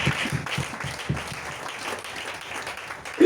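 A congregation claps during a sermon, a lively rhythmic patter of many hands at moderate distance that rises again near the end.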